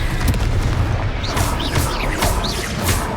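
Confringo fire spell blasts in Hogwarts Legacy combat, a run of several booming explosive bursts at a steady rhythm over dense continuous rumble, loud and close, with no talk.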